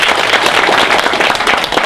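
Loud, close applause fills a Korean political school lecture hall as the crowd thanks the lecturer, a committee member, with dense continuous clapping from many hands.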